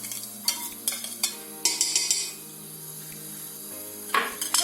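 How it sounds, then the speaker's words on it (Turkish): Onions go into a cooking pot for vegetable lentil soup, with several clattering scrapes and knocks of a utensil against the pot and a soft frying hiss between them. "Önce soğanlarımı ilave ediyorum tencereme."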